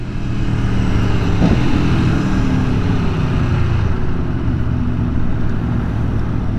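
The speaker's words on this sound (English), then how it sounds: "the exhaust is definitely not loud, but it still sounds really good. The engine is what really sounds good." A 2019 Aprilia Tuono Factory motorcycle's engine and exhaust hum in a steady, close, low rumble, the pitch easing down slightly as it cruises, with no voices.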